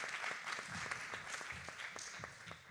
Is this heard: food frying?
no